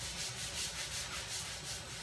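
A 240-grit disc on a Radius360 sander scuffs a polyurethane-finished table top, a soft, steady rhythmic rubbing hiss, close and quiet, with no voices.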